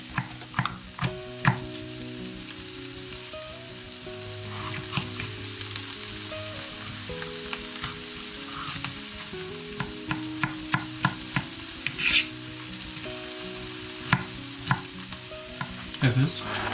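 Garlic and onions frying in a pan, a steady sizzle broken by frequent sharp clacks and scrapes from stirring, close and fairly loud with no voices.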